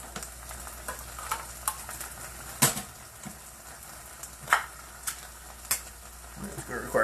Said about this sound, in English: next thing we're going to mix in is the Campbell's cream and mushroom soup